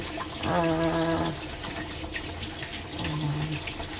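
A tap runs steadily while someone washes their body in Japan. The water hiss is continuous and close, broken twice by short, tonal squeals from the pipes or faucet.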